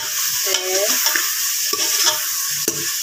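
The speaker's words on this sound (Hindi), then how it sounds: "अब इसको भूनते हुए ही मैं इसमें जो लहसुन अदरक का पेस्ट और जो सब्ज़ मिर्चें पीसी थी वो मैं इसमें डाल देती हूँ।" Chicken gizzards frying in a pan with garlic-ginger paste and ground green chillies, a steady loud sizzle with stirring scrapes and clinks, no talk.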